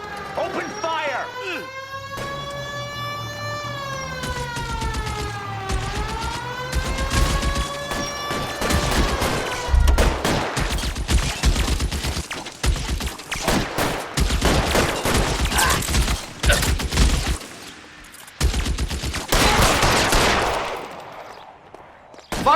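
Video game shootout with rapid gunfire bursts and sharp shots ringing out under shouted voices, following a tense stretch of music, loud and close.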